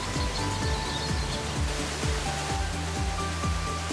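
A large waterfall in the Golden Valley near Munduk, Bali, keeps up a steady broadband roar from start to finish, with soft low thuds recurring about every half second beneath it.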